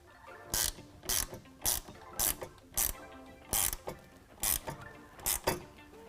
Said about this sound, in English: I've got a ratcheting wrench. You can use a wrench or ratchet.